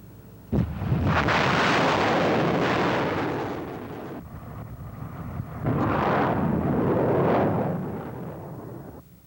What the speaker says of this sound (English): the harsh weather makes no difference to the missile launchers of the American artillery